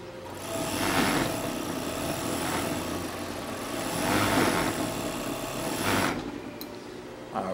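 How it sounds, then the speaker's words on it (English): An overlock serger stitching fabric with five threads, giving a steady, loud mechanical whir that rises and falls in sewing bursts and runs with no talking. "And now I'll let you see the sewing and the sounds of the machine."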